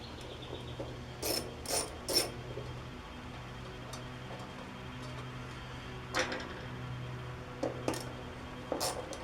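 A hand tool loosens the two screws holding the screen on an old Briggs and Stratton engine, making bursts of close ratcheting clicks in short groups over a low steady hum, with no talk.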